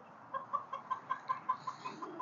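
Chickens clucking in a steady series of short, evenly spaced calls, moderately close, with a soft background hum.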